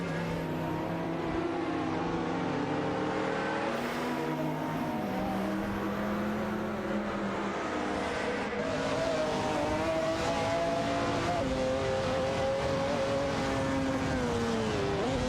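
Race cars roar along a track in an autonomous AI racing series, two cars battling closely with sustained, loud engine notes rising and shifting in pitch as they accelerate down the straight, with no talk over them.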